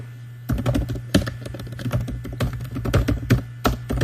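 Fingers typing a city name on a computer keyboard, close up, with quick irregular bursts of key taps and a few louder strikes, no voices.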